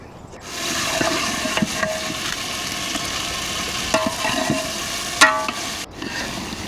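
Masala-coated prawns for an Andhra-style prawn curry fry in a pan with a continuous loud sizzle, broken by a few sharp clicks and scrapes from stirring.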